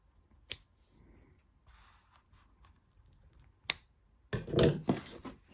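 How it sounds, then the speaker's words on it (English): Scissors snip yarn while making an amigurumi toy, with two sharp isolated clicks of the blades a few seconds apart, then a louder rustling burst of handling at the end, close and without talk. "And then I'm just going to cut them."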